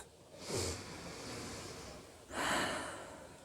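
Deep breathing during a doctor's lung examination in the medieval game Kingdom Come Deliverance 2: two drawn breaths, a sharp inhale near the start and a louder breath about two seconds later, close and alone.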